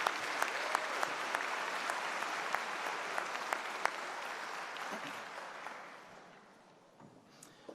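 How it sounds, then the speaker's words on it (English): Audience at a MacEwan University convocation ceremony applauding the university big band, steady dense clapping with a few sharp individual claps, gradually fading out toward the end. "Let's give them a big round of applause for their wonderful music today."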